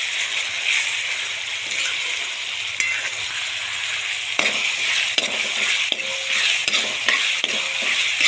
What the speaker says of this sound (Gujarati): ટામેટાં પણ આપણે સરસ મજાના શેકાવા માંડ્યા છે,